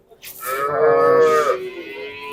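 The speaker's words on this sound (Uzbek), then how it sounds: "Ana ovoz. Novvoscha." A calf at a Tuesday livestock bazaar lets out one loud, drawn-out moo lasting about a second, close by, with market noise faintly behind.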